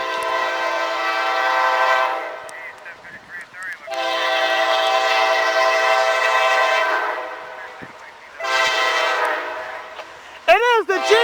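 A CSX freight locomotive, GE-built unit 5333, sounds its multi-chime horn in three long, loud blasts separated by short gaps, the last one trailing into a whistling, swooping passby tone near the end.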